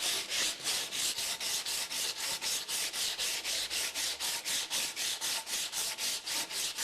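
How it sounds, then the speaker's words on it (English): Coarse sandpaper worked by hand along a wooden boat spar, a close, loud, rhythmic rasp of about four even back-and-forth strokes per second, continuous with no voices. "Then we put the plane aside and get some coarse sandpaper."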